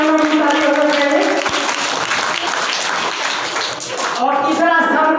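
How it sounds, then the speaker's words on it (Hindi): Sustained applause from an audience at a school prize ceremony during a Bihar Diwas programme at UMS Vishupur Gadh, a dense steady patter lasting the whole stretch, with voices talking over it. "इनके सम्मान में ताली होनी चाहिए।"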